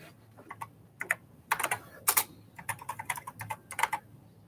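Keys clatter on a computer keyboard in quick irregular bursts of clicks and taps, close and fairly quiet in a still room.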